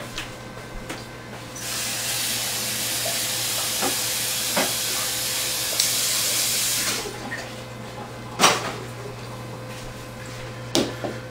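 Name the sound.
rinsing out a funnel with water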